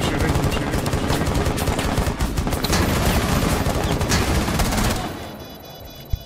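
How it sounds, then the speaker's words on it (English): Rapid automatic gunfire in Rainbow Six Siege rattles in dense, continuous bursts, loud and close, then cuts off near the end, leaving quieter game ambience. "Keep shooting, keep shooting, keep shooting."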